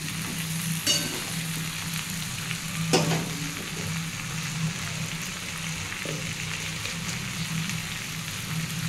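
Eggplant sautéing in a pan for a Bengali fish-head curry, a loud continuous sizzle with occasional sharp clicks and scrapes of a spatula stirring, close up with no talking.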